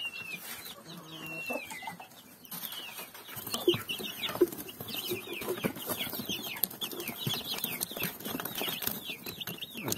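Hens clucking in a coop with broody hens about to be set in a cage for hatching a batch of chicks, busy overlapping clucks and chirpy calls, fairly close, with faint rustling and some wing activity.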